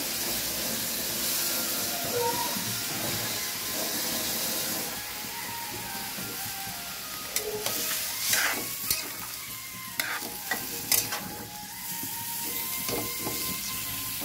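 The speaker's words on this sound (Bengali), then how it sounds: "এবার বেগুনগুলো দিয়ে দিলাম।" Eggplant pieces go into a pan of simmering shukto with water, a steady sizzle and hiss with stirring and a few clinks of a utensil against the pan in the second half, no talking.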